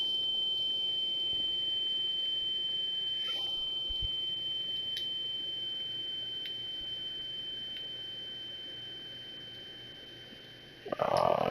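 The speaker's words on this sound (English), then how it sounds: "the ears are ringing." A steady high-pitched ringing tone of the ear-ringing effect in The Town of Light video game holds throughout, with faint ambient hum beneath and a brief louder noise at the very end.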